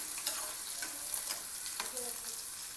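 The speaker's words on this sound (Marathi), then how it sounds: "काजू बदाम भाजून घ्यायचे." Cashews and almonds are dry-roasted in a pan for paneer masala, giving a soft continuous sizzle with light scraping from stirring, close and steady with no talk.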